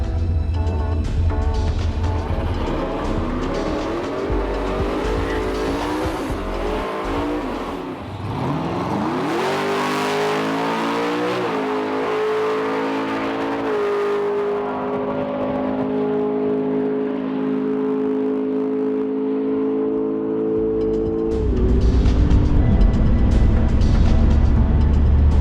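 A turbocharged Ford Falcon with a Barra engine roars loudly down a race track, its pitch climbing through gears as it accelerates hard, then holding a high steady whine before a sharp drop at the end.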